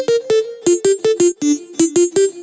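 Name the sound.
short melodic synth lead in a music production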